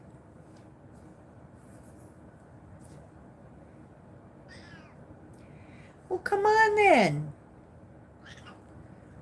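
A pet cat lets out a single drawn-out, rising-then-falling meow near the end, loud and close, after someone briefly speaks to it over a quiet room hum.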